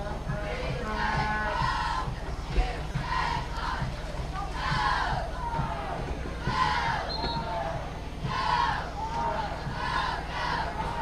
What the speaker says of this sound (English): They got a big crowd.